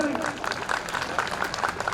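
An audience at a district-level talent honour ceremony applauds, a dense wash of clapping filling the hall at moderate volume.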